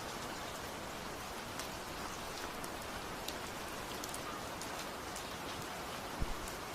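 Steady rain on a night street falls in a dense, even hiss with occasional sharper drop taps, holding constant and fairly close throughout with no voices.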